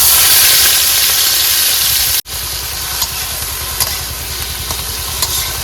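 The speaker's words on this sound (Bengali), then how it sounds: "প্রথমে কিন্তু মাছগুলো ভেজে নেব।" Fish frying in hot oil in a wok, giving a loud, close, continuous sizzle and crackle. It cuts off sharply partway, then resumes slightly quieter with small pops, and no one speaks.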